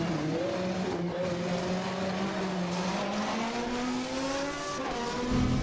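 A BMW race car at a European Hill Climb Championship round at St. Ursanne Les Rangiers, its engine revving hard and rising in pitch as it climbs, a loud continuous drone with tire noise and no talking.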